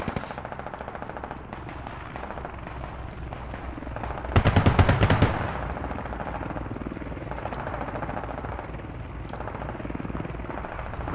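Automatic gunfire in the tactical shooter game Squad, rapid bursts crackling over a constant rumble of engine or rotor noise, swelling into a louder, nearer burst midway before settling back into the distant din.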